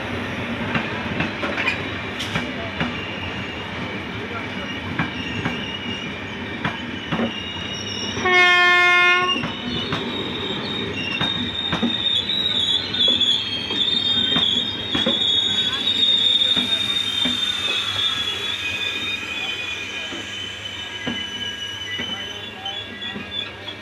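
The Kolkata Jammu Tawi Express rolls through Kharar railway station with steady wheel clatter and screeching wheel squeal, a loud horn blast sounding briefly near the start, the train close and continuous throughout.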